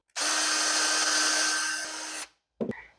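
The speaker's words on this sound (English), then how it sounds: "I'm going to drill a hole in the center at the bottom" A power drill bores into the bottom center of a one-piece wooden Christmas tree made from scrap wood, one loud, sustained whine lasting about two seconds before cutting out, followed by a brief clunk.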